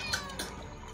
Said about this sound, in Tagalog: Pusa oh.